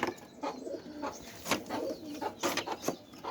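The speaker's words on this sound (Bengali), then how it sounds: "নতুন কিছু কবুতর নিয়ে আসছি" Pigeons coo in a cage, several soft throaty calls repeating in an uneven rhythm close by, with no talking.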